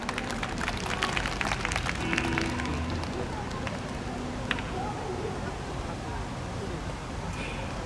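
An audience claps to welcome an acoustic duo to the stage at a festival eve event. The clapping is brisk and scattered at the start, then thins under steady crowd murmur and voices.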